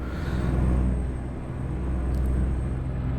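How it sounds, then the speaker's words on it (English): Truck compression brake in American Truck Simulator during a special transport haul: a steady, loud low engine rumble with a dense drone, continuous throughout, no speech. "the compression brake will open the exhaust valve on the compression stroke, letting all that hot compressed air out"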